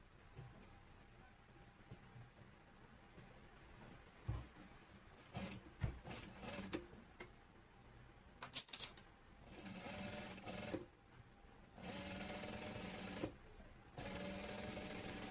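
A sewing machine stitches turban base fabric in several runs of steady rapid mechanical whirring, starting and stopping with brief pauses and handling noises between bursts.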